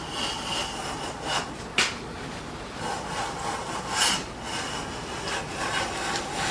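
A hand plane, an autoset type, draws shavings off a wooden board in repeated rasping strokes, a few sharper swishes standing out against a steady scraping texture, close and fairly loud.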